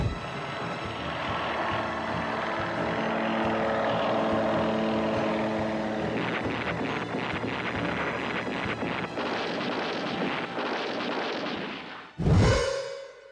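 A low-flying general's aircraft drones steadily with wind-like roar, then a burst of rapid crackling German gunfire pops before a loud whooshing pass near the end.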